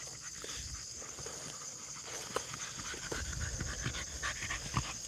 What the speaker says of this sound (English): Here comes some of the dogs back.